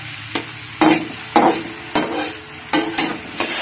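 Onion, ginger and garlic browning in oil in a kadai sizzle steadily while a spoon stirs and scrapes the pan in regular strokes about every half second, close and fairly loud with no voices.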